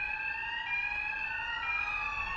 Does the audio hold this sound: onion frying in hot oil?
no